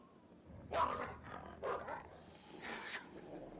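A dog in a video game barks in a few loud, separate bursts, with short gaps between them, over low background noise, near a mine setting.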